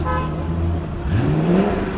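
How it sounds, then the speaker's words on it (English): An Alpine A110 revving on a city street, a short burst of engine note rising in pitch over steady traffic noise, moderately close. "revolutions from the A110 behind"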